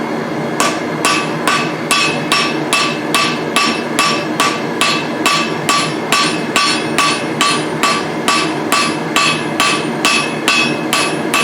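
Blacksmith's hammer striking hot metal tongs during forging, a long run of evenly spaced ringing blows about twice a second, close and loud with no talking.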